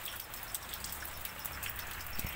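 Rain falls steadily outdoors, a soft continuous hiss with faint scattered droplet patters, quiet and even throughout.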